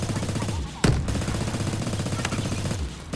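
A turret in Call of Duty Advanced Warfare fires in rapid automatic bursts, with a sharp, loud crack near the start and the rattling gunfire continuing steadily underneath for a few seconds.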